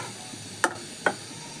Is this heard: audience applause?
no